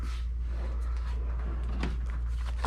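A calendar drawer slides open with a short scraping rumble over a steady low hum, one brief movement at close range with no talking.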